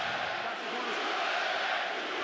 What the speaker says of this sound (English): I think I'm hearing USA chants from the New York crowd here tonight